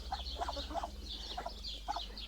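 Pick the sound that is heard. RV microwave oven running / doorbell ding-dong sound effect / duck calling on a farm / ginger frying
duck calling on a farm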